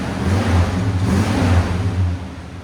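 A 1965 Oldsmobile Starfire with a 425 V8 and Borla ProXS exhaust revs up close and loud, a deep rumbling burst that swells and eases off over a few seconds.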